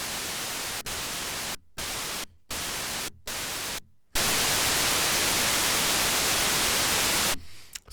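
Raw noise from oscillator 1 of a UDO Super 6 synthesizer: loud, broadband static hiss cut into several short bursts with sharp silent gaps, then a long sustained stretch that fades at the end.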